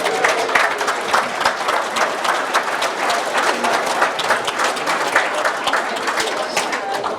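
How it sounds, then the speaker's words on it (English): Wedding guests at a ceremony at Ocean Sands Hotel break into sustained applause, a dense, even crackle of many hands clapping that holds steady from start to finish. "So please give yourselves a round of applause"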